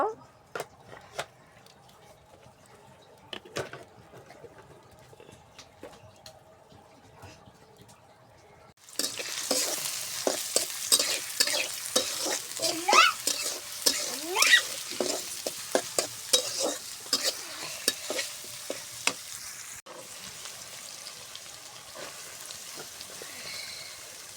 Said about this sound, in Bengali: এখন আমি আলু ভাজি করব। কড়াইতে তেল দিয়ে দিব